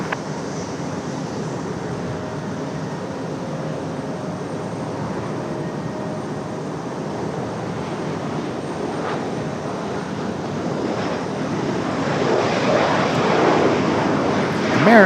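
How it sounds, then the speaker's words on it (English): A Boeing 737 Max airliner in Mariners livery at Raleigh-Durham airport gives off a steady, broad engine roar that holds even throughout and swells louder near the end, with no talk over it. "Mariners livery on a Max tonight."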